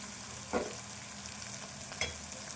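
Ginger, garlic and onions frying in a pan for a ridge gourd and soya chunk curry, a steady moderate sizzle broken by two short scraping stirs, heard with no speech.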